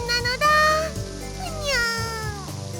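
A video game character's voice imitates a cat, drawing out a long, sing-song meowing cry in two rising and falling swoops over soft background music.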